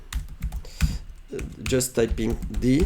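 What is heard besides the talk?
typing on a computer keyboard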